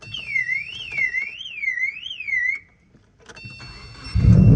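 A 2004 Subaru Forester XT Turbo's car alarm whoops in a rising and falling electronic siren for a couple of seconds, cuts off, then the turbo engine rumbles into life.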